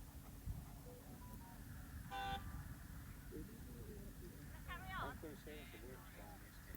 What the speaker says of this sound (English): the judge slipped and honked his horn as Mum was in the corner